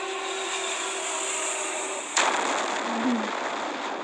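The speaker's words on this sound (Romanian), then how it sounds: "Ce explozie mare!" A big bomb blast in a nuclear simulator video game: a steady rumbling hum breaks into a sudden broad burst of roaring noise that lingers as a dense, sustained wash.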